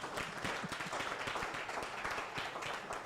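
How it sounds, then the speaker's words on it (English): A small workshop audience claps for a participant, with distinct individual hand claps in an uneven, lively patter heard close and fairly soft. "So clap for him."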